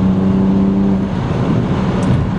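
BMW 135i with standback and turboback exhaust, turbocharged at about 12 PSI of boost: a loud, sustained engine drone and exhaust roar, close and continuous, with no talking.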